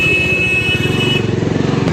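A Phoenix motorcycle, just washed, idles and pulls away slowly with a steady low engine pulse, close and loud throughout.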